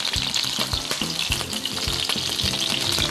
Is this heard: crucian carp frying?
yes